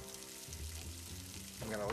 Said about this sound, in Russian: Теперь положу сюда кусочки крольчатины.